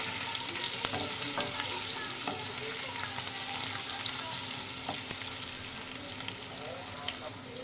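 Potatoes with salt and turmeric frying in a pan as they are stirred, a close continuous sizzle with repeated sharp scraping and tapping of the spatula against the pan.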